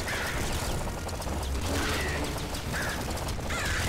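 Crow enemies cawing in the PC game Nuclear Throne, brief harsh calls repeated several times over a loud, constant bed of game music and effects.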